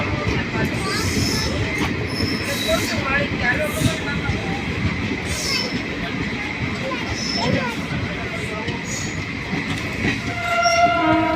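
A train pulling out of Sihor Junction railway station, with a steady loud rumble of rolling wheels and rail noise throughout, occasional squeals and clatter over the tracks, and a voice talking over it.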